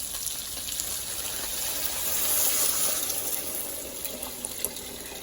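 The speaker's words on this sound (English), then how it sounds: "now I'm going to go ahead and add about 6 cups of water to this" About six cups of water pour from a tap into a pot for making sopa, a steady close gushing stream that swells slightly midway, with no talking.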